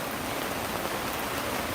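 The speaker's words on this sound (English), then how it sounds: "and now it's pouring" Heavy rain pours down steadily outdoors near a griddle and grill, a dense, even hiss of falling water close by with no voices.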